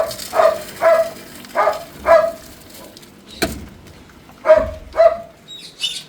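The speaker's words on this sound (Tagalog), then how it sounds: "Ang ingay pa ng aso." A dog barks in sharp paired bursts, repeated several times with short pauses between, close and fairly loud in a quiet rural outdoor setting, with faint bird sounds in the background.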